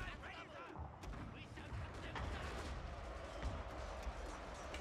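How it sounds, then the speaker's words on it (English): Artillery barrage in the video game Fall of the Samurai, distant booms and sharp gunfire cracks rolling continuously over a dense battlefield din, fairly faint overall. "right now an artillery barrage is imminent"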